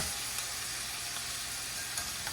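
Swedish meatballs fry in a pan with a steady, fairly quiet sizzle, an even crackling hiss with faint pops and no talking.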